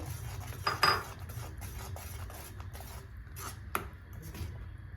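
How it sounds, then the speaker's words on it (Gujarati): A spatula scrapes and clinks against a pan as spinach gravy is stirred into hot oil for palak paneer, with a low steady background hum and a couple of brighter metallic knocks. "હવે આ સ્ટેજે આપણી પાલકની ગ્રેવી છે એ આપણે એડ કરી દઈએ છીએ અને તેને મિક્સ કરી લઈએ છીએ."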